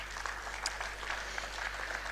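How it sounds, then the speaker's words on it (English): A round of applause at the close of the University of Lagos 55th convocation lecture, a faint, distant patter of many hands from a large hall, steady and soft throughout. "Let's give ourselves a round of applause"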